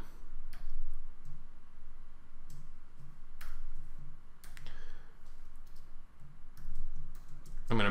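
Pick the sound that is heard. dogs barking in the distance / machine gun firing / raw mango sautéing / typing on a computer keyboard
typing on a computer keyboard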